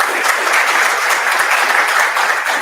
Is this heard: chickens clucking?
no